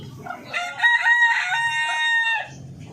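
An Orpington rooster crows once, loud and close, a long drawn-out call lasting nearly two seconds, with soft clucking before and after.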